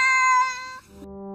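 A cat gives a single clear, close meow, drawn out and then dropping lower at the end.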